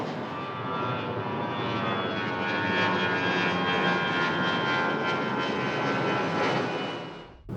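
An airplane flies low overhead close to the airport in Old Town Alexandria, Virginia, its loud, steady engine roar holding through the whole stretch before cutting off abruptly at the end.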